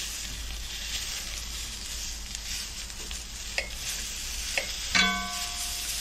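Kraut and bite-sized hot dog pieces frying in a cast iron skillet make a continuous close sizzle, broken by a few scraping stirs and a clank near the end.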